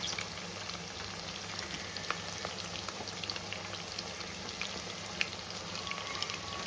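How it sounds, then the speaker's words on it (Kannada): Steady, fine crackling and bubbling of kebab deep-frying in oil, with scattered small pops, constant and fairly quiet, no voices. "ಒಂದು ಕಬಾಬ್ ಅನ್ನೋದು 10 ಮಿನಿಟ್ಸ್ ಆದರೂ ಎಣ್ಣೆಯಲ್ಲಿ ನೀಟಾಗಿ ಕುದಿಸ್ಕೋಬೇಕಾಗುತ್ತೆ"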